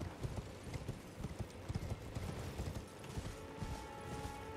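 Horse hooves clip-clopping at a steady gallop while riding in Elden Ring, rapid even thuds close and moderately loud, with faint game ambience beneath.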